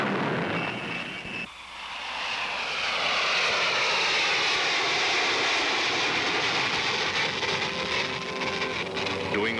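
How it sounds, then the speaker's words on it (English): A Lockheed SR-71 jet aircraft flies past with a loud, steady engine roar that swells after a brief dip and then holds, its whining tones shifting continuously as the plane passes. "the Lockheed SR-71."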